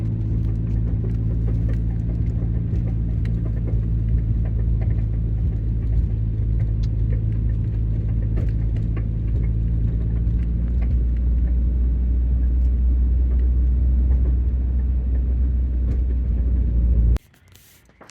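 Interior drive sound of a 2022 Subaru WRX on newly fitted coilovers: a steady low engine and road rumble with faint small rattles over it, continuous for most of the stretch before cutting off abruptly near the end.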